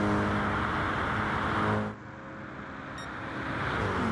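Race car engine at full revs on the Mount Panorama circuit, racing on soft tyres in a GT endurance-style contest; a loud sustained roar drops abruptly about halfway, then builds again as the car pulls away.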